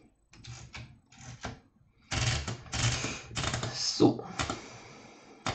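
Keys clack on a typewriter in irregular bursts, close and crisp, with a brief spoken word among the strokes.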